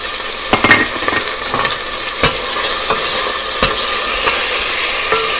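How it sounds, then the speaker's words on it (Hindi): Onion and garlic sizzle and fry in a pan for tori sabzi, with a steady crackling hiss and a few sharp pops and stirring clicks. "ये हमारा प्याज और लहसुन पक रहा है।"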